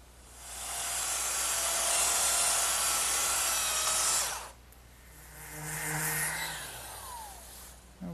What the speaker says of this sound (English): it's sticking up a little bit here, so I'll just dress that up with my sander